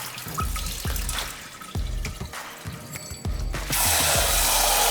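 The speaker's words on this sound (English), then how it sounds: "Rinse once again, cover that rice. We don't need to agitate too hard. We are just washing off that starch." Sushi rice is swished and rinsed in water in a bowl, with repeated close sloshes and clicks, then a running tap rushes in at the end.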